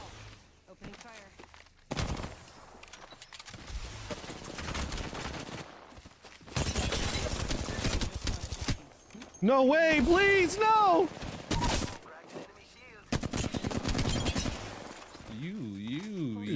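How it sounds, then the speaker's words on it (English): Bursts of rapid gunfire crackle in the Apex Legends video game, interleaved with game sound effects and a tonal warble, while people talk and shout over the action. "Opening fire."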